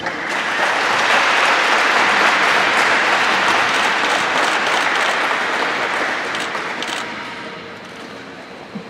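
Sustained applause from a live audience greeting the CEO of the D Las Vegas onstage at a Golden Knights announcement, a dense, loud wash of clapping that holds steady for several seconds before thinning slightly toward the end.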